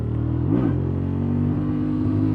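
A Honda Transalp motorcycle engine gives a quick rev blip up and back down as traction control kicks in, then holds a steady, close hum.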